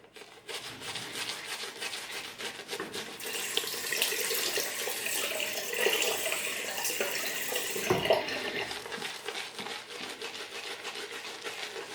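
A tap runs water for lathering shaving soap, a continuous hiss and splash, with a brief clunk near the end as the flow is handled.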